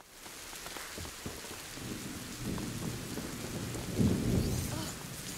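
Thunder rumbles over steady rain in A Plague Tale: Innocence, low rolling booms swelling and peaking near the end against a constant patter of rain on surfaces, no voices.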